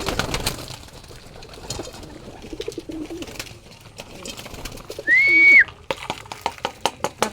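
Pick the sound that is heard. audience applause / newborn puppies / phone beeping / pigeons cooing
pigeons cooing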